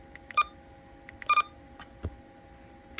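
Short electronic beeps from a President McKinley CB radio, a few brief tones spaced irregularly over about three seconds, fairly quiet against a low background hum, with no talking.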